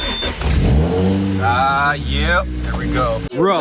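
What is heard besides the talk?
Datsun 240Z engine starting with push button start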